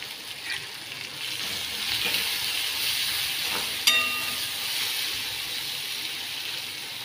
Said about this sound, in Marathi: सगळं परतून घ्यायचं आपल्याला।